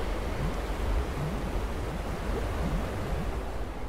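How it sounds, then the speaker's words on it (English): Water rushing and draining in a bath house tomb in the video game Rise of the Tomb Raider, a steady loud roaring wash with a low rumble, no voices. "To get this water to drain."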